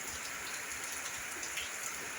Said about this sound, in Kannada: ಇವತ್ತು ನೋಡಿ 1:15ಗೆ ಮಳೆನೇ ಚಾಲು ಆಗ್ಯದ ನೋಡಿ